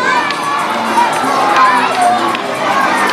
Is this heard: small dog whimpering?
no